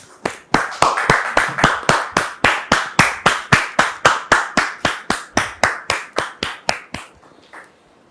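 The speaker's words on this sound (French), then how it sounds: "Merci de la recevoir sous vos applaudissements maintenant." An audience welcoming a guest claps in unison, about two dozen sharp, evenly spaced claps in a steady rhythm that fade out at the end.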